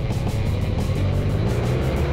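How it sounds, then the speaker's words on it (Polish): A motorcycle engine hums steadily as the rider enters hairpin bends on a mountain road, a continuous low drone with a faint rhythmic pulse, close and even throughout without speech. "jak się w te zakręty wchodzi na zwykłym motocyklu"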